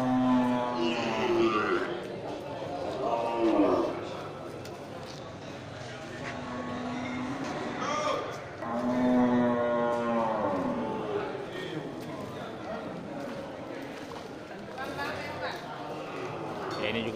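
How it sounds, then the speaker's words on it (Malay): Simmental crossed with Aceh cattle low and moo at a livestock market, several long drawn-out calls spread across the stretch, fairly close, with people talking throughout. "sapi simental persilangan dengan sapi Aceh"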